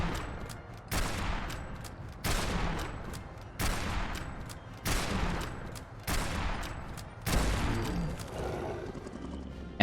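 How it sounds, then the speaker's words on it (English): Seven booming .50 cal shots from a modded bolt-action marksman rifle in Fallout 4, fired at a Deathclaw, come in a steady rhythm about a second and a half apart, each with a loud crack and rolling echo. "Let's go ahead and see how the 50 cal receiver does against a Deathclaw."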